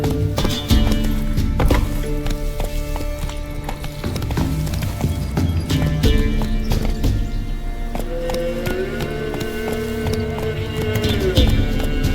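Roach, Geralt's horse in The Witcher 3, gallops with rapid rhythmic hoofbeats throughout, mixed with game music and a brief whinny near the end.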